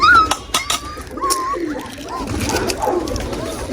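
Soft pigeon coos sound close by, mixed with someone talking and some background clatter.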